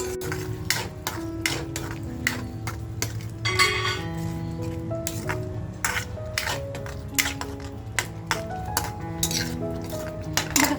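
Raw green peas go into Irani keema masala in a pan, followed by repeated clinks and scrapes of a spoon against the metal pan and a soft sizzle underneath, with the stirring strokes coming in an irregular rhythm.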